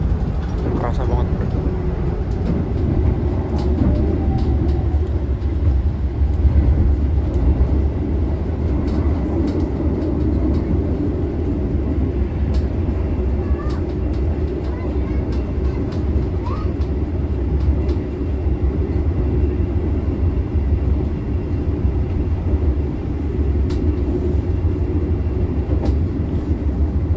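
Interior of a Gajayana executive class train at speed, heard from the rear seats: a loud, constant rumbling roar with rattling and faint clickety-clack from the rails, continuing unbroken throughout.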